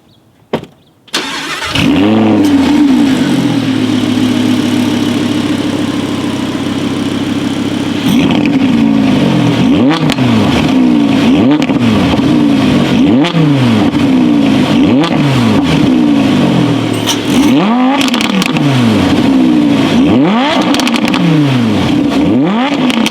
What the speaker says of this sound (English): there was an exhaust button located on the steering wheel, which would open up the exhaust valves to let out a much more brutal sound